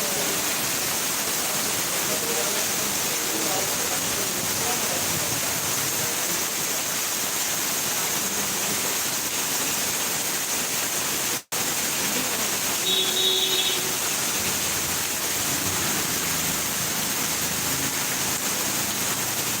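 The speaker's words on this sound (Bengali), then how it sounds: "মানে প্রচুর বৃষ্টি হচ্ছে আর কি এত বৃষ্টি যে বলার বাইরে" Heavy rain during Cyclone Remal pours down in a dense, loud, unbroken roar of hiss, with one split-second dropout midway.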